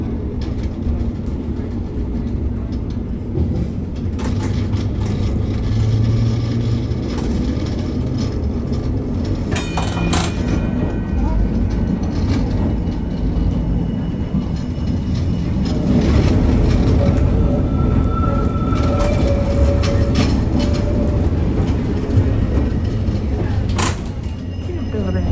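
Rumbling interior of a tram riding through central Rotterdam, with steady low rail noise, occasional clicks and squeals, and faint voices of passengers in the background.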